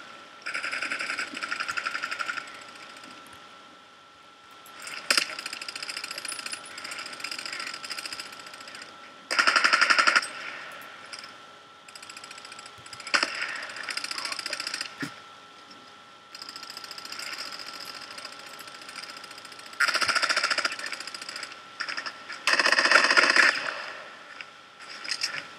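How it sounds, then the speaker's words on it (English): Rapid bursts of automatic gunfire in the video game Contract Wars rattle in repeated volleys separated by quieter gaps, sharp and mechanical across the whole stretch. "somebody's shooting something"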